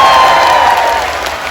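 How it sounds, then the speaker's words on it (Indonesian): Brief burst of crowd clapping and cheering at an Islamic religious gathering in a park in Taichung, Taiwan, loud and dense, tapering off slightly within under two seconds. "tepuk tangan."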